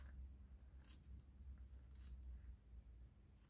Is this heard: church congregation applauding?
no